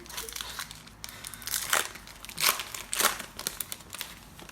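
A foil wrapper on a baseball card pack is torn and peeled open, giving close crinkling and crackling bursts in a few surges, fairly loud and alone without talking.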